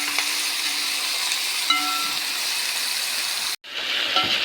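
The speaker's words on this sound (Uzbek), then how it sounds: "Yaxshilab qizib olgandan so'ng go'shtlarimizni yaxshilab qovurib" Meat frying in a pan of hot oil, a loud continuous sizzle and hiss with a brief cut partway through before the sizzling resumes.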